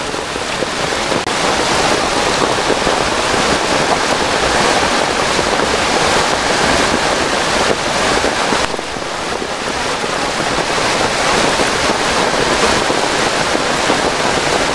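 Devkund waterfall in the monsoon, in heavy rain, gives a loud, continuous roar of rushing, falling water. The sound stays close and unbroken, with no voices.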